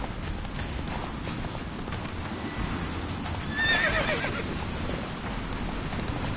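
Roach, the horse in The Witcher 3, gives a clear whinny partway through over steady hoofbeats and game ambience, at moderate loudness.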